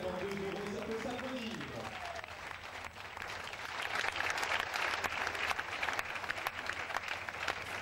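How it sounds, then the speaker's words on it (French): Hall audience applauding at a school event as a director proudly holds up a charity cheque, steady clapping growing fuller and louder after a brief stretch of voices at the start. "applaudissements de la salle"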